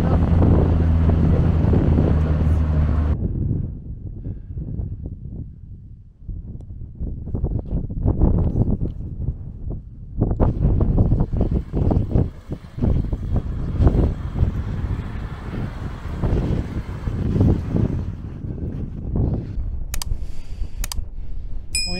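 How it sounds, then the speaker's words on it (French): Strong wind in Bolivia's Sud Lípez buffets the microphone in loud, rumbling gusts that rise and fall throughout, with no talking. "il y a un peu de vent, il y a même beaucoup de vent."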